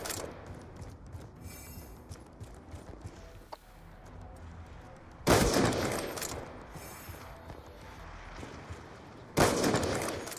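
Two loud, sharp gunshot bursts ring out in a video game, a few seconds apart, each cracking over a quieter bed of clattering game noise.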